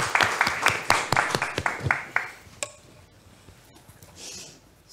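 A small audience at a clean energy transition panel discussion claps in a burst of distinct, fairly loud claps that thin out and stop after a few seconds, leaving a quiet room.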